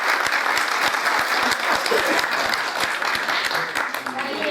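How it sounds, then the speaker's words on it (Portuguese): Loud, continuous audience applause for a mannequin at an exhibition honoring Flávio de Carvalho, a dense crowd of clapping hands with distinct close claps, voices murmuring underneath. "palmas para o nosso manequim"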